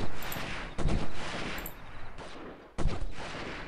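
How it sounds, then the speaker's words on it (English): Gunfire in the Delta Force video game during an Uzbekistan mission: several loud close bursts of automatic fire separated by short gaps, with fainter shots echoing between them. "Somebody has been shooting at me, I cannot see him."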